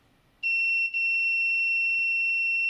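A neural-network metal detector's beeper sounds a sustained, piercing electronic buzz as it passes over a chip, starting abruptly, dipping briefly, then holding steady and loud to the end.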